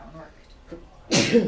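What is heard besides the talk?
sneeze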